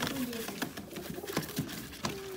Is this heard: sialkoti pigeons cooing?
yes